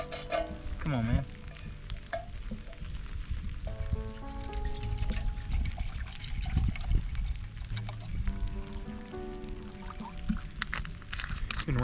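Chicken fried rice sizzles and crackles steadily in a pan at a rainy winter campsite in Shawnee State Forest, with scraping and stirring noises and a faint dribble of water mixed in, all close and fairly loud.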